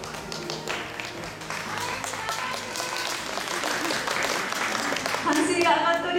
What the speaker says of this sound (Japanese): 歓声が上がっております。